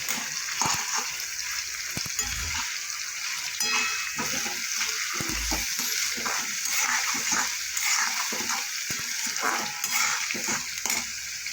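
Ground spices hit hot oil in a pan while bottle gourd fritters are being cooked, raising a steady, bright sizzle with stirring clatter and scraping throughout, and brief low knocks from the utensil.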